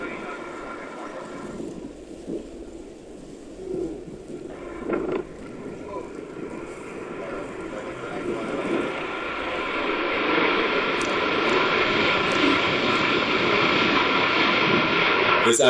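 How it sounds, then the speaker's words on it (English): Boeing 737 landing with reverse thrust deployed early before touchdown, engine roar and rushing wind noise building steadily louder toward the end, heard from nearby, with a voice talking over it. "This Boeing 737 deploying its reverse thrust too early before touching down."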